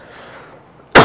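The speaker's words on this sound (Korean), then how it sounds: "제가 초반에는 기침을 좀 해요." A single sharp, loud cough bursts out at the end after a quiet room, close to the microphone.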